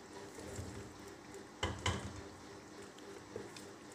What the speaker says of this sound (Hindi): इसको अच्छी तरह से भून लेना है। देखें, ऐसे भूनना है।